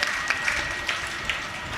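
Audience applause at a spiritual festival gathering, a steady wash of many hands clapping at a moderate distance with a few sharper claps standing out.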